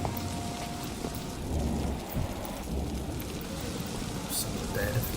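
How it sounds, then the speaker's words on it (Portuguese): Steady rainfall in the video game Vampyr with a rumble of thunder underneath, a continuous wash of drops spread across the whole stretch. "Chovendo."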